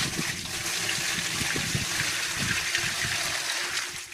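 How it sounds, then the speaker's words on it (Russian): Water pours and splashes steadily into the tank of a homemade farm crusher machine, a continuous close rushing gush with some gurgling, no speech. "Сначала заливаем воду."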